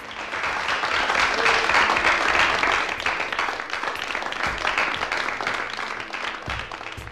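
Footballers at a training ground give steady, mid-distance applause that rises and holds as a dense wash of many hands, then tapers slightly, with no talking over it.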